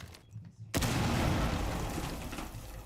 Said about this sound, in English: And more explosions.